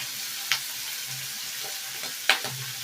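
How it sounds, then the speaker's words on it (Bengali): Prawns fry in a pan with salt and turmeric, giving a steady close sizzle throughout, broken by two sharp clicks of a utensil against the pan. "চিংড়ি মাছগুলোকে নুন হলুদ দিয়ে ভালো করে ভেজে নেব"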